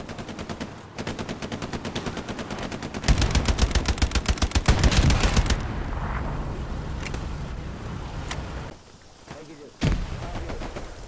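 Gunfire hitting a Sherman tank in Hell Let Loose: long rapid machine-gun bursts hammer continuously for several seconds, then thin out into scattered single shots and impacts.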